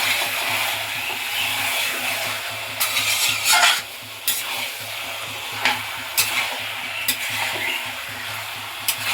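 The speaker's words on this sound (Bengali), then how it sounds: "তেল ছাড়া অবধি মাংসটা এখানে কষিয়ে নেব।" Chicken pieces sautéed in oil in a pan for curry, a continuous sizzle with a low hum underneath and intermittent scraping stirs of a spoon against the pot, no talking.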